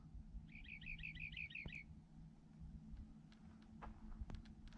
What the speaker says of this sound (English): A little bird up there singing to us.